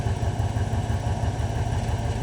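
A 1951 Ford engine, hot from running, idles steadily right after starting, a low, even rumble with a slight rhythmic pulse that holds close and constant throughout.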